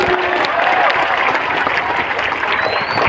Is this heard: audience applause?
yes